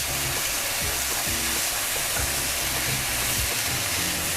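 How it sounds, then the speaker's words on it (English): Steady broadband sizzling and hissing of vegetables frying in hot oil for chilli sin carne, continuous and fairly loud, with some low clattering underneath. "Chucking the leftover to the side, frying that up."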